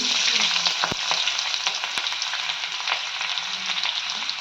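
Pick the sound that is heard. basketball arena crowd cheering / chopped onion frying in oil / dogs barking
chopped onion frying in oil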